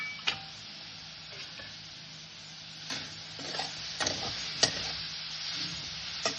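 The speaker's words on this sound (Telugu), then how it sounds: "ఉసిరికాయ తురుముకున్నాం కదా, ఇది వేయించుకుందాం. ఇలాగా పొడిగానే వేయించుకుందాం అండి." Grated amla dry-roasts in a pan with no oil, giving a low, dry crackle broken by several light scraping strokes as it is stirred, fairly quiet throughout with no voices.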